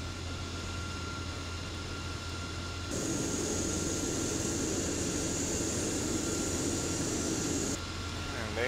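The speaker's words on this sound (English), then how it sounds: "Starting engine number 1." A jet airliner's number one engine spools up in X-Plane 11, a steady broadband roar that steps louder about three seconds in and holds with a high whine before easing near the end, with no talk over it.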